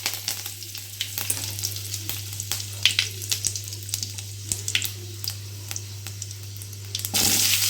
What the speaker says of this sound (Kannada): ಈಗ ಎಣ್ಣೆ ಕಾಯ್ದೈತಿ, ಸ್ವಲ್ಪ ಸಾಸಿವೆ ಹಾಕ್ಕೊಳ್ಳೋಣ, ಜೀರಿಗೆ ಹಾಕ್ಕೊಳ್ಳೋಂತ 1 ಚಮಚ